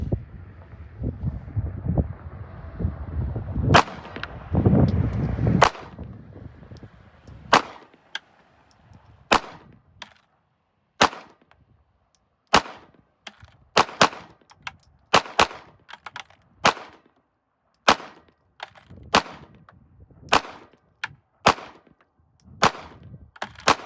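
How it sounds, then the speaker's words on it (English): A SIG P226 X Legion Carry pistol firing Blazer Brass 124 grain ammunition at an outdoor range, with sharp, loud shots coming singly and in quick pairs at an uneven pace over light wind noise. "124 grain Blazer brass with the new SIG P226 Legion X, the X Carry."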